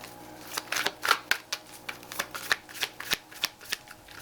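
Tarot cards shuffled by hand in a card reading, a quick run of crisp riffling bursts and soft slaps repeating close up, with no talking.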